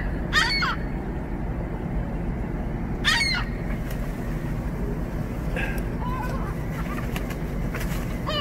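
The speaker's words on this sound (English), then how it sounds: "throwing french fries out to the seagulls" Seagulls being fed french fries give a few sharp, clear calls over steady traffic-like background rumble, with other faint cries scattered throughout.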